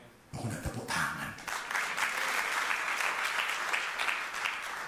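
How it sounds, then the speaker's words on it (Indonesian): A church congregation bursts into sustained applause that swells after a brief opening burst and holds steady, loud and close, filling the room without speech over it. "Aku nak tepuk tangan."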